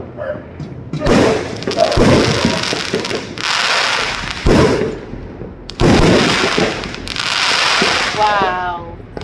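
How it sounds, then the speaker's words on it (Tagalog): Fireworks burst repeatedly, loud crackling explosions arriving in several waves with sharp bangs, while people talk in the background. "May libreng fireworks."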